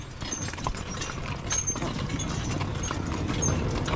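Hooves of a four-mule logging hitch clop over the ground in a continuous, moderately distant shuffle with faint jingling of tack, no voices heard.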